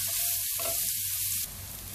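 Chopped onion sautés in ghee with spluttering seeds for ghee-roasted baby potatoes, giving a steady close sizzle that drops slightly in level near the end.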